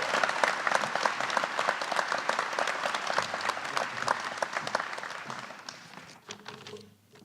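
A crowd applauds an Alumni Award of Merit recipient at a 2017 ceremony, with dense, steady clapping throughout that fades out in the last second.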